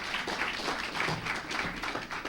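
An audience at a talk on gaming and animation gives a round of applause, with a few seconds of steady, moderately loud clapping from many hands and no voices over it.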